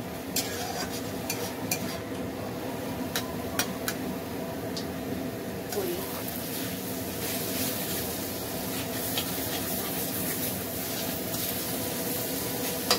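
Ground spices fry in a pan for a vegetarian Bengali dish, giving a continuous soft sizzle with scattered spatula clicks and scrapes from stirring, close and unbroken with no talk.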